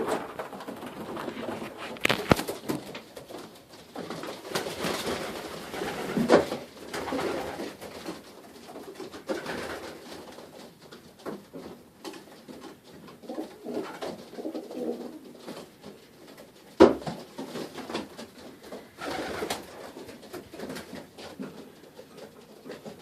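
Van Loon racing pigeons in a young bird loft give soft, continuous cooing and murmuring throughout, with occasional wing flutters and scuffles close by and no talking.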